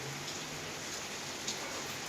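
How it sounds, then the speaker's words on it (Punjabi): Steady, dense rain hissing down without a break, a continuous broadband wash with no voices. "ਮੀਂਹ ਦੇਖੋ ਕਿੰਨਾ ਆ ਰਿਹਾ ਬਹੁਤ ਜ਼ਿਆਦਾ ਮੀਂਹ ਆ ਰਿਹਾ"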